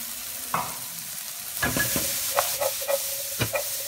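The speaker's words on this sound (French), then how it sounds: "Un peu d'huile d'olive et on fait revenir notre fenouil." Fennel sautés in olive oil in a cooking pot for ratatouille, a close steady sizzle punctuated by several scraping stirs and clinks of a utensil, with no talking.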